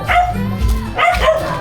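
A street dog barks twice close by, two short, sharp woofs with a brief pause between them.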